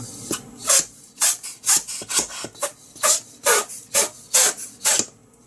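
A repaired pneumatic sink plunger pump is worked under test, giving about ten rhythmic, close, rasping whooshes of air, one per stroke, with brief pauses between them and no voices.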